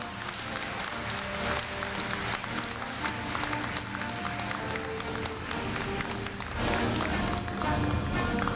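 Audience applause at a university freshman entrance ceremony, a sustained wash of many hands clapping in a large hall, steady and moderately distant, swelling slightly near the end.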